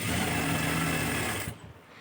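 A sewing machine runs steadily at close range while stitching the edge of a churidar garment, then stops abruptly, leaving faint handling noises.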